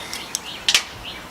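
A rescued baby bird gives a few short, high chirps, the clearest two close together midway, thin and near against a steady background hiss.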